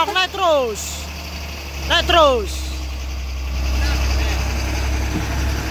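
A truck engine lacking power revs under throttle, a low rumbling drone that swells toward the end after voices speak briefly at the start.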